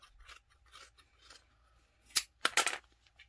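Scissors snip through fabric while a neckline is trimmed during garment alteration: faint scraping strokes first, then a few loud, crisp close-up cuts, with no voices.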